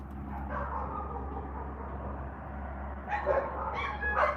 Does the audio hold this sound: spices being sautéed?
no